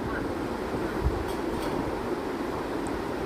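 Saurashtra Mail express train (Okha to Mumbai Central) rolling slowly into Bharuch Junction station at night, a steady low rumble of wheels and carriages with a brief thump partway through, continuous and fairly close.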